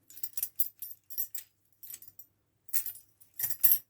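A bunch of original house keys for a thumb turn Euro lock jangle close up in quick bursts of bright metallic clinking, separated by short pauses, with no talk.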